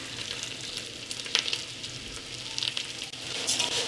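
Rice fries in a pan as it starts to turn golden, giving a steady close sizzle with occasional scraping stirs.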